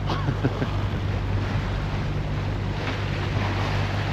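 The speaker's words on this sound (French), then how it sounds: "Mais il y a le bruit du moteur." A sailboat's engine drones low and steady beneath gusting wind and rushing water on an ocean crossing, loud and close throughout.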